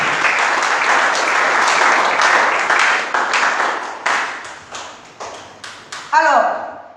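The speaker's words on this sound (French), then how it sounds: "Acclame encore très très fort." Church congregation applauding loudly and steadily for several seconds at a French-language service, with bursts of claps that fade near the end, when a sharp ringing ping cuts in.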